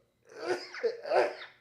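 A single loud, close sneeze with a breathy intake, set in a casual studio conversation.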